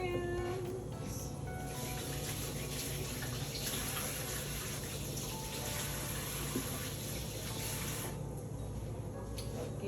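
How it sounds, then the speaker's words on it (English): Tap water runs continuously into a sink during handwashing in a home kitchen, a steady close splashing rush with a brief meow-like sound and faint background noise. "wash my hands"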